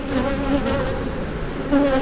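Honeybees hum steadily around an open hive during a split, a dense, close, continuous buzz that swells slightly near the end, with no voices.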